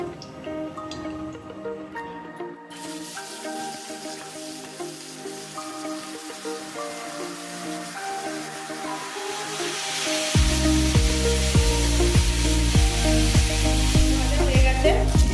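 White vegetable oil poured into a hot wok begins to sizzle, a soft drip and hiss growing into a louder, steady frying crackle in the last few seconds, heard over background music.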